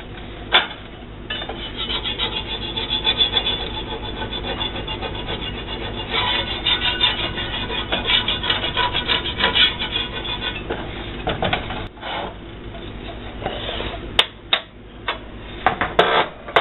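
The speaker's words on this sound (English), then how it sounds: "I'll just scrape the rest of that out." A cast iron pan is scraped out with steady, gritty rubbing and rasping strokes close by, with a few sharp clicks and knocks near the end.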